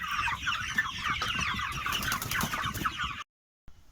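Half-grown chicks eating grass in a garden keep up dense, close clucking and chirping, then the sound cuts off abruptly before the end.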